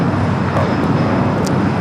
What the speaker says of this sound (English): That's a flight to Prescott, Arizona in the CRJ.